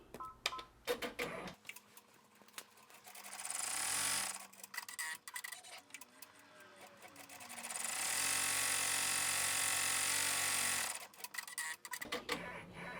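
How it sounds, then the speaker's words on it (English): An embroidery machine stitches felt onto vinyl with a rapid, steady mechanical whir and ticking. Two long sustained runs are broken by quieter pauses, and there are clicky start and stop sounds near the beginning and end. "we're going to stitch out and tack down the felt on the back to the front of our vinyl"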